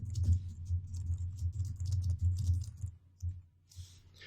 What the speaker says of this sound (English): I'm using my up and down arrows on my keyboard